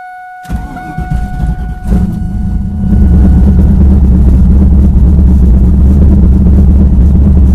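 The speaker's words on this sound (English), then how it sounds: "let's see if it starts with no change in the tune-up and pump E85 in it" A turbocharged Camaro drag car on pump E85 fuel cranks loudly up close. After a few seconds the engine catches and settles into a rough, heavy, rumbling idle that holds to the end.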